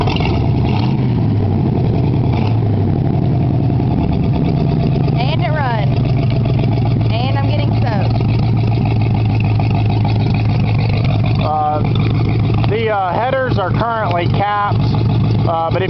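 Engine of a 1929 rat rod car idling steadily in the rain, a loud continuous rumble running throughout, with people talking over it near the end.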